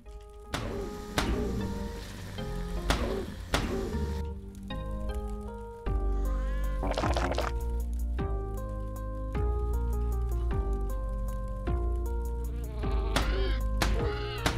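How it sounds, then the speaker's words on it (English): Cartoonish cat meows and growls from the skeleton-themed first-person shooter game Calcium Contract, repeated in short bursts and mixed with loud, busy game music and effects. "one of those sound clips for the cats does sound like it's just passing gas instead of, you know, growling or whatever it's supposed to be doing"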